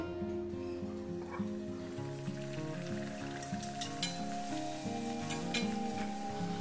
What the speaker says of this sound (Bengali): এবারে আমি লুচিগুলো ভেজে নেব।